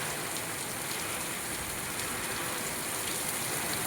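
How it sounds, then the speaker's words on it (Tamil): Heavy rain pours down in a dense, steady hiss, loud and unbroken throughout, with no voices. "அவ்வளோ மழை."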